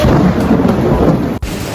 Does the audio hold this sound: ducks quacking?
no